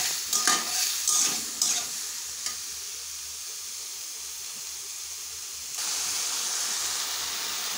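Sabudana pulao with salt fries and sizzles in a pan with a steady soft hiss. A few stirring scrapes come early, and the sizzle grows brighter and louder near the end.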